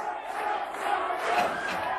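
Crowd at the 1988 World's Strongest Man competition yelling and cheering on a strongman holding out a 56-pound weight, a sustained roar of many voices rising and swelling throughout.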